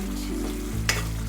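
Chole masala deep-frying in oil in a pan, with a steady close sizzle and crackle throughout, a brief stirring scrape near the end.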